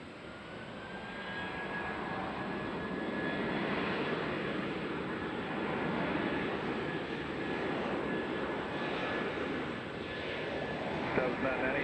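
JetBlue jet departing Nashville for Boston, a steady distant engine roar that swells slightly and holds at low loudness, with a faint high whine running through it.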